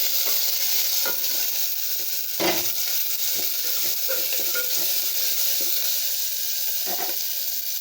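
Onions fry in hot oil in a pan, with asafoetida already added, for Coimbatore dal rice, making a continuous crackling sizzle broken by several sharp clinks and scrapes of a spoon stirring, with no voices.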